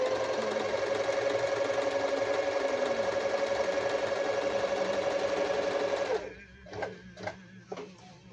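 A Yokoyama sewing machine runs in a steady, loud mechanical hum for about six seconds, then stops, leaving a few short clicks and handling knocks.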